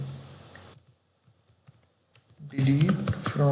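Computer keyboard typing, a few quiet scattered key taps after a short burst of clicks, then a voice speaks over it near the end.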